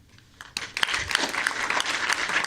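Audience applause at the Arlington County Board debate, clapping that starts suddenly and builds into a steady, moderately loud patter from a room of listeners.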